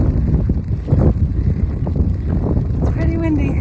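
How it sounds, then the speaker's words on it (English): Strong wind buffeting the microphone outdoors on a long-distance walking trail, a steady, heavy low rumble throughout with a person talking underneath. "It's pretty windy."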